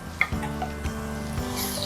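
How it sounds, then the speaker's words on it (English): A spoon stirs low carb chili with fire roasted tomatoes in a pot, giving a few soft scrapes and light clinks against the pot over a steady low background hum. "Give it a good stir"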